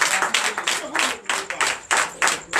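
A church congregation at a night deliverance and prophecy service claps and applauds for Jesus, sounding as a dense, close burst of rhythmic handclaps with a voice briefly mixed in.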